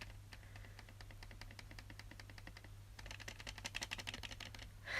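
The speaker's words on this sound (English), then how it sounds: "That's like a Cherry MX Black keyboard." Rapid keystrokes on a Cherry MX Black mechanical keyboard clatter in quick bursts, growing faster and louder in the second half, recorded up close over a steady low hum.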